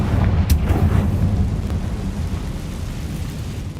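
A Confringo fire spell explodes in Hogwarts Legacy, a deep rolling boom with a sharp crack at the start that rumbles and slowly fades into a low, sustained roar.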